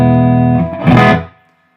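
A sustained electric guitar chord through a Two-Rock Studio Signature amp with reverb rings out with a washy, echoing tail, then a brief strummed flourish that quickly decays into silence.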